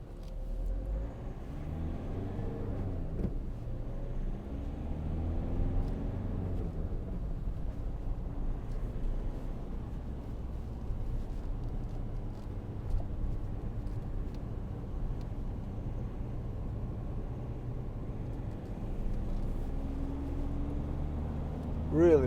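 Steady low engine drone and road rumble inside a 2012 Volkswagen Amarok 2.0 BiTDI pickup on the move, a quiet continuous hum with no talking.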